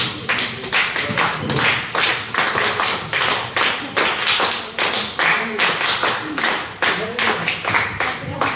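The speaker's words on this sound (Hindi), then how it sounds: "ताली हो रही है" Applause from a crowd at an outdoor gathering, a steady run of many hands clapping in uneven bursts that swell and dip, with voices murmuring underneath.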